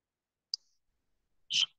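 Two crisp computer mouse clicks, a tiny tick and then a fuller click about a second later, sit close and isolated against near silence.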